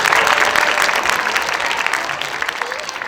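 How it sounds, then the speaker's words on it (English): Audience at a school assembly applauding, a dense, steady wash of many hands clapping that fills the hall and gradually eases slightly in loudness. "Let's give them a round of applause."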